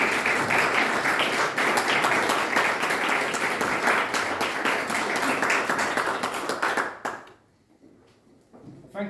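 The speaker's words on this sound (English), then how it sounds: "I'd like to give a round of applause for Mark." A crowd applauds Mark at a mayor's speech, loud continuous clapping from many hands that holds steady for about seven seconds, then stops abruptly into near quiet.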